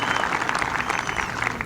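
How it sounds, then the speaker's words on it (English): Steady applause from a graduation ceremony crowd, dense clapping sustained throughout at an even level with no break. "So give yourselves a round of applause."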